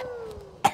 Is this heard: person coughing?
yes